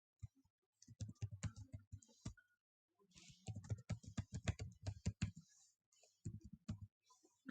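A password is typed on a computer keyboard in quick bursts of close, crisp key clicks separated by short pauses, quiet and without talk.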